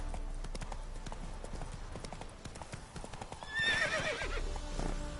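Horse hooves clip-clop steadily in a video game, then a horse neighs loudly near the end, with faint background ambience.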